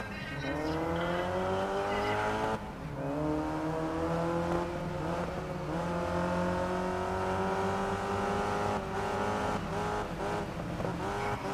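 Race cars in a night race in the video game GRID Legends, a loud continuous engine roar with rising and falling revs as gears shift, sustained throughout with brief dips.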